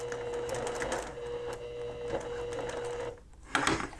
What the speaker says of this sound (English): you just give it a little tug as you're sewing, and you're sewing just inside that stay stitch line